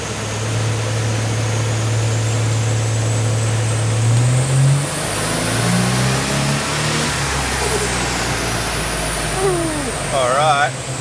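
A GT-R engine swapped into a Datsun 240Z revs hard on a dyno, a steady loud drone rising in pitch as it climbs through the gears, with a brief voice near the end.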